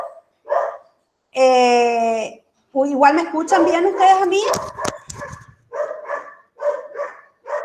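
A dog barks and yelps frantically indoors as a doorbell rings, loud close barks in bursts, with a person talking over the barking during an online class.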